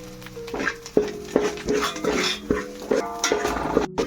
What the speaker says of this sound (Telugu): దీన్ని బాగా కలుపుతూనే ఉండాలండి